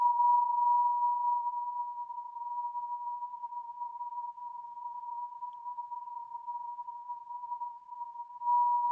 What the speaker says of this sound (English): that beep there, that's one shooting star